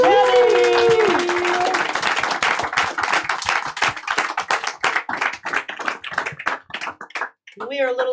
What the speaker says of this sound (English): Everybody, stand up, standing ovation, Yeah. round of applause for Jenny.